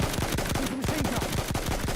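Rapid, continuous machine gun fire in a first-person shooter video game, loud sustained bursts of closely spaced shots filling the whole stretch.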